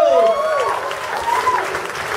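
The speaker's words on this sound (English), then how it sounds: "give another round of applause to tNCCU!" Applause from an audience after a youth group's sketch promoting a fundraiser car wash and boot sale, a brief burst of clapping with cheering voices mixed in.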